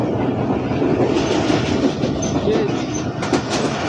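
A passenger train runs on rails between Mian Channu and Rawalpindi, with a loud, continuous rumble and rhythmic wheel clatter heard from on board, and no pause throughout.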